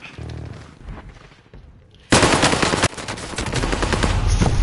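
Automatic weapon fire from the player's own gun in Warzone on Caldera: after a quieter lead-in with faint shots, a loud, sustained burst of rapid fire starts suddenly, pauses briefly, then continues steadily to the end.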